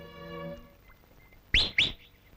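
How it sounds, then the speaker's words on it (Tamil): A person whistling sharply to call someone, two loud, quick rising whistles near the end, after a sustained musical tone at the start. "காலங்காத்தால விசில் அடிச்சுட்டு."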